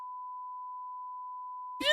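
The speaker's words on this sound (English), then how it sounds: "Bleep it out." A steady, loud censor bleep covers a spoken phone number: a single unbroken pure tone that holds for almost two seconds, then cuts off as a voice starts talking.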